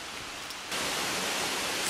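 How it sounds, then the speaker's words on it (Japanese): A waterfall deep on a mountain trail gives a steady broadband roar that swells suddenly louder partway through, a continuous wash of rushing water with no voices. "これ滝の音ですよね、"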